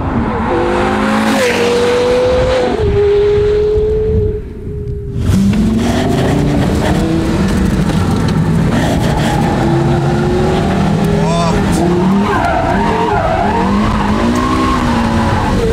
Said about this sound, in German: mit so einem V10-Motor so an der Ecke vorbeizudriften